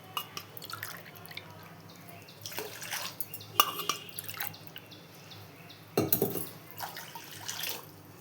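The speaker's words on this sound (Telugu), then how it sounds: "అలాగే 3 గ్లాసుల వాటర్ని తీసుకోవాలి." Water is poured into a pan of jaggery while making sweet appalu, giving soft, faint splashing and dripping sounds close by with a few brighter splashes.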